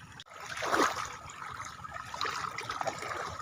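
Floodwater running in a strong current along a flooded route, a steady broadband rush with a louder surge early on, heard close and continuous.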